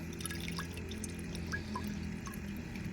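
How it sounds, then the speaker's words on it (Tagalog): A little water poured slowly over a hand while changing water for guppy fry, giving soft, steady dripping and trickling at close range over a constant low hum, with no talking. "Konting tubig lang, padaanin natin sa kamay natin."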